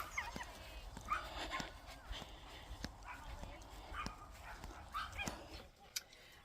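Several dogs bark and yip in short bursts at a caravan site, fairly close, with a person's voice over them.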